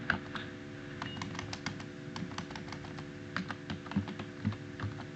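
Computer keyboard typing, a steady run of faint, rapid clicking keystrokes over a low constant hum, with a few slightly louder key presses toward the end.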